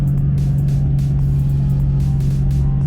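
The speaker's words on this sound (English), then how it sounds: "I think I'm gonna try a little acceleration here" A supercharged Ford Fox Body Notchback driving along: a steady low engine drone with a strong hum under faint wind and road noise, recorded from inside the car, no talking.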